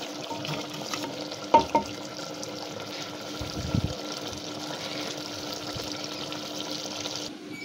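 Mutton curry with softened tomatoes being stirred in a pot, a continuous close sizzle with a couple of sharp scraping knocks from the spoon early on and a low thump a little later.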